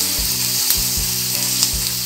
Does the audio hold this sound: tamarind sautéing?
yes